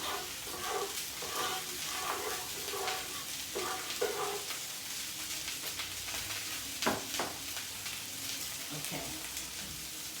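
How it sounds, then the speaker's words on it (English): A roux with garlic stirred in a pan gives a steady low sizzle, with repeated scraping strokes of the spoon in the first half, close by and continuous for several seconds. "I'm gonna stir this around inside the roux for about 10 minutes."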